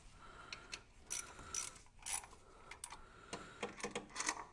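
A ratchet with a reverse Torx socket works the coil pack bolts on a 986 Porsche Boxster, giving quick, faint bursts of metallic clicking in an irregular rhythm, close by and with no voice over it.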